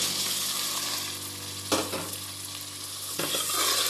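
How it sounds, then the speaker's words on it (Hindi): Chicken breast pieces frying with ginger garlic paste in a pot for Hyderabadi chicken haleem, a steady close sizzle with two sharp stirring scrapes of a utensil partway through. "अब हम लहसुन अदरक और चिकन को एक साथ बड़ी अच्छी तरह से फ्राई कर लेंगे"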